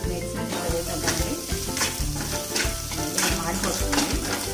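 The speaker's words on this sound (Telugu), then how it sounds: "మాడిపోతుంది, కలుపుతూ ఉండాలి, ఇలా వస్తుంది." Semiya noodle mixture with egg stirred and frying in a pan, a steady loud sizzle with repeated scraping strokes of the spoon throughout, no talking.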